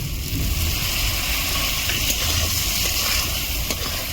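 Tomato tipped into a pan of fried spices, giving a continuous hissing sizzle with faint scraping and bubbling, fairly loud and even throughout.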